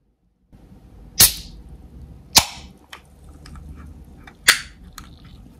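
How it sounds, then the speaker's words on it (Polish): Several sharp, loud cracking pops over a quiet background as a bottle of blackcurrant Fanta is opened, with three strong bursts and a few smaller clicks spaced about a second apart. "ale otwórzmy."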